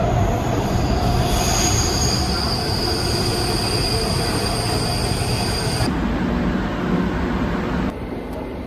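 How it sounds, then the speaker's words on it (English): A public transport train in Athens rolls along with loud, continuous rumbling and high, sustained wheel squeal close by, the squealing tone shifting partway through and easing near the end. "Yes, indeed, these trains are much better."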